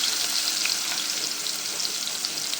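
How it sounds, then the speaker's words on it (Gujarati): Onions frying in hot oil with asafoetida and cumin in a pan make a loud, dense, continuous sizzle, close by and unbroken, with no voices. "હવે એડ કરવાનું છે ડુંગળી"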